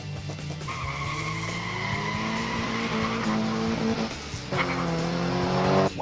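Modified 1/64 diecast muscle cars race down a track, with continuous whirring and rolling noise and shifting, swooping tones throughout.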